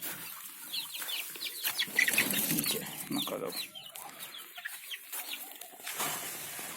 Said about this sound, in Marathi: कोंबड्याची अंडी घेतल्यामुळं ओरडायला लागलेत.